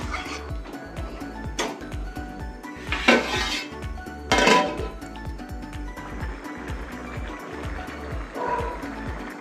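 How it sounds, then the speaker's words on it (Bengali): A lid goes onto a pot of potatoes simmering in water, giving two metallic clatters up close over a steady, low, rhythmic background rumble. "এবার ঢাকা দিয়ে দিই"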